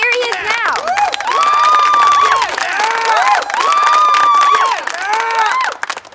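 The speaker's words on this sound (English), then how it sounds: "A large crowd has gathered" A large crowd cheers for a comedic character's appearance, a loud sustained roar of shouting and whooping voices that swells and holds, with high excited yells rising above the mass.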